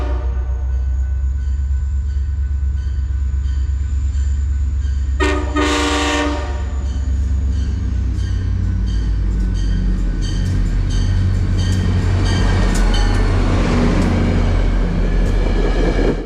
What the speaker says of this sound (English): CT Rail 6698 leads train 6822 in harsh lighting past the Candlewood Fencing Academy in Norwalk,